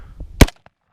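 A single sharp, close gunshot from an FN SCAR 17S rifle fired at a cardboard target cracks out, preceded by faint low rustling and followed by a brief tail and a small click.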